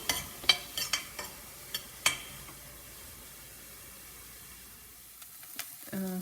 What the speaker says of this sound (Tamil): இந்த கேப்சிகம் நம்ம ஸ்டஃபிங்கில் யூஸ் பண்ணும்போது எப்பவுமே தனியாக தான் வதக்கி எடுத்து வச்சுக்கணும்